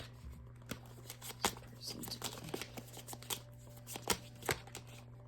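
Tarot cards shuffled by hand before an oracle card is drawn: a steady soft riffling with crisp taps and slaps, close up over a low hum, with no voice.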